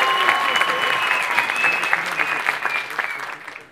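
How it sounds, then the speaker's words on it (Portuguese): Applause from a live comedy show audience welcoming comedian Thiago Ventura, a dense, steady wash of many clapping hands throughout, with a few shouts and voices mixed in, fading slightly toward the end. "Aplausos pro Thiago Ventura"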